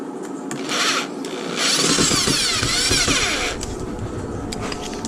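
A power tool, probably a driver, tightens down a rod holder bracket for bank fishing. A short whirring burst is followed by a longer, steady grinding run, close and fairly loud, with no talk.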